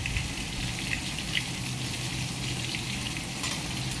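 Fish frying in oil in a pan, a steady dense sizzle running throughout with a few soft pops and no talking.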